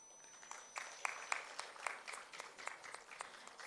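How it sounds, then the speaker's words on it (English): Scattered, fairly faint clapping from a small audience at a Kathak dance debut recital, individual hand claps audible in an uneven rhythm rather than a dense ovation. "Can we please have a huge round of applause for Arnav as he makes his way onto the stage?"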